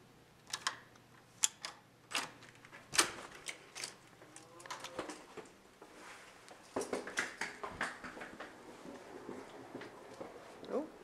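Keys rattle and click in a hotel room door lock, a jumble of small metallic taps and jiggles, fairly close, with brief voices in the background.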